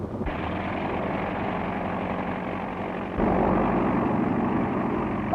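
A propeller airplane engine drones steadily, close and loud, then the roar swells sharply partway through as the engine revs up.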